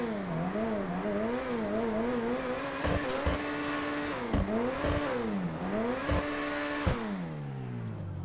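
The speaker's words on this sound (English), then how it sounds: "I'm just gonna be quiet and let you guys hear the engine sound" Engine note of the Itali GTO sports car in the video game GTA Online, revving up and down through repeated gear changes with sharp shift breaks, a clear harmonic whine rising and falling alone without talk.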